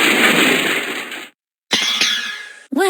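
Glass smashes inside a box in the video game Edna & Harvey: The Breakout 2, a loud crash with a brief silence, then a second bright shattering rattle and a short tail.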